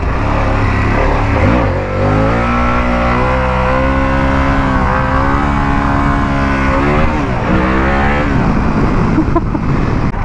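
Harley-Davidson motorcycle engine pulling hard under acceleration, a loud, close, continuous roar whose pitch climbs steadily, dips briefly at a shift, then rises again over about ten seconds.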